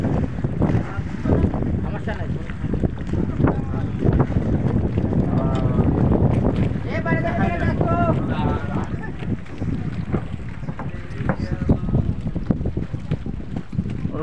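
A trawler boat travels across open water, its steady engine drone and rushing water continuous throughout, with wind buffeting the microphone and people talking over it.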